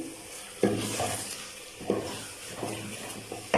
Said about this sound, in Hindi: अभी माशाल्लाह से कलेजी भून ली है मैंने